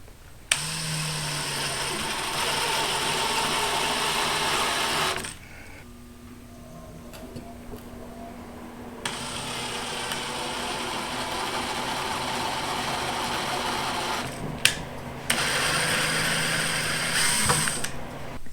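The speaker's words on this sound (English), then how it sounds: "I just want to go ahead and get the hole created with the screw" A screw is driven into holes in a wooden rustic picture frame, giving a steady mechanical whirring grind that runs for about five seconds, pauses, then resumes in longer stretches with short clicks between.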